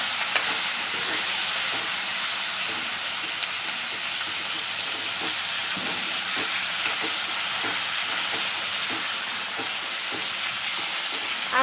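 Gunda (glue berries) sizzle and fry steadily in a pan as they are mixed for sambharo, a continuous close hiss with faint scraping stirs throughout.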